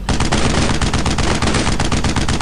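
Sustained machine gun fire in the World War II shooter Brothers in Arms: Road to Hill 30, a loud, dense, unbroken stream of rapid shots filling the whole moment with no talk.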